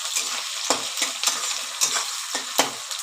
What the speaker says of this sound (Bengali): পেঁয়াজ কুচিগুলো একটু ভেজে নিচ্ছি